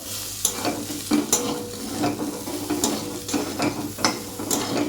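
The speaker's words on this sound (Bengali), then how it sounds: "এখানে আলু উচ্ছে ভাজাটাও প্রায় হয়ে এসছে" Potato and bitter gourd sizzle in a pan while a utensil stirs and scrapes them in irregular strokes, with clinks against the metal over a continuous frying hiss.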